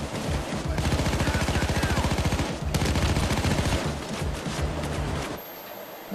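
Rapid automatic gunfire from the video game Payday 2 rattles almost continuously in dense, loud bursts with a brief break, then fades near the end; no clear speech over it.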